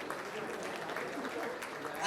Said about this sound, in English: A huge round of applause for Mr. Gul Kriplani.